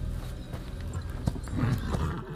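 A horse snorts and clatters its hooves in a dramatic fantasy TV scene, a dense, close mix of shuffling steps and breathy vocal sounds over a busy low rumble.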